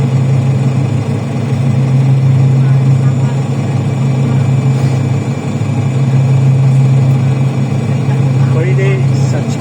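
The engine of a new bus runs with a steady, loud low drone and a constant hum throughout. Voices are audible faintly in the background.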